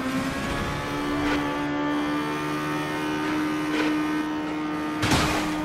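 Racing car engine in the mobile game Asphalt 9 Legends, a steady high-pitched electronic engine drone with brief whooshing bursts, loud and continuous with no talk.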